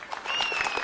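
Brief burst of crowd applause greeting the village association president at the first Ulukoy Dam festival, an outdoor gathering, with dense steady clapping from a sizable audience.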